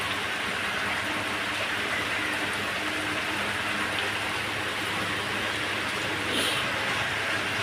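Steady, dense rain pours down without a break, a constant broadband hiss of drops on surfaces, close and fairly loud, with no voices.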